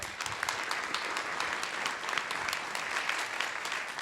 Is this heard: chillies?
no